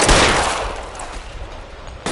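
A loud gunshot blast from the L.A. Noire video game bursts at the start and rings off over about two seconds, with a second sharp report cutting in right at the end.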